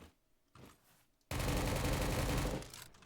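Groza assault rifle in a video game: after a few faint sounds, a loud, rapid automatic burst fires continuously for over a second before trailing off.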